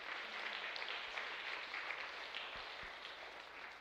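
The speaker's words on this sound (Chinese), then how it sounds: "为他们鼓掌一下" A church congregation in Taiwan claps at a year-end prayer meeting, producing faint, steady applause that fills the room evenly for a few seconds.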